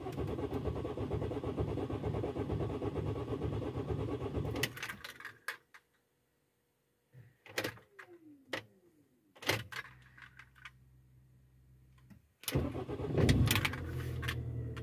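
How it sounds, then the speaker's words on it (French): Car with a new ignition coil and a persistent starting problem: a long stretch of engine cranking cuts off, then clicks, short starter attempts and sharp clunks follow before the engine catches with a rough, louder rumble near the end. "elle n'a pas démarré du premier coup, mais tout est normal et elle a encore mis du temps à démarrer"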